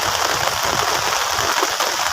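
Heavy rain pouring down steadily during a flood that has lasted days and nights, a dense continuous hiss without pause and no voices.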